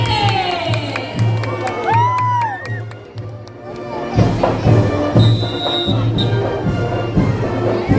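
A crowd cheering and whooping with a symphonic band playing at a town fiesta in Las Piñas, shouts rising over a steady noisy din, loud and close.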